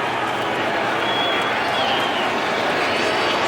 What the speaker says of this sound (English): the crowd is booing because the Colts line up to go for 2